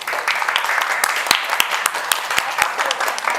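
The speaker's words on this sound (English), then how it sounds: "let's give you a round of applause to this panel" Sustained audience applause for a panel, dense and fairly loud, with a few sharper individual claps standing out from the steady crowd clapping.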